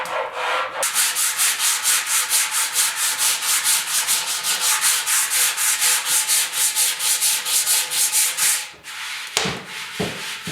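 Sheet-metal motorcycle fuel tank on a 1974 Yamaha RS 100 sanded by hand with 80 grit sandpaper, a close, loud rhythmic rasping of quick regular back-and-forth strokes that stops near the end.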